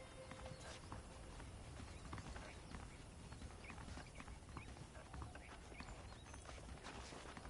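Horse hooves clip-clopping in the video game Red Dead Redemption, a quiet, steady walking rhythm of hoofbeats over faint ambient noise.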